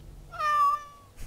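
In the video game Dragon Age: Origins Awakening, a character makes a single drawn-out, rising and falling meow that closely imitates a cat. It is clear and close, lasts about a second, and is followed by a faint shuffle.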